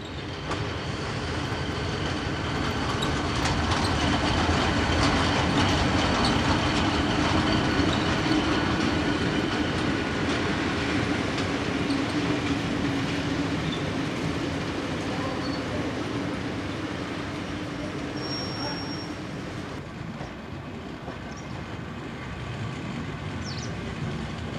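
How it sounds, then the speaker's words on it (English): Electric locomotive RE44 11300 coasts into a station with empty coaching stock, a continuous broad rumble of rolling wheels with faint squeals, steady and fairly close throughout. "RE44 11300 coasts into the northern end of the station with empty coaching stock"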